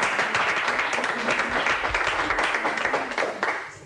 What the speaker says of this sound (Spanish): Un aplauso para Bernardo.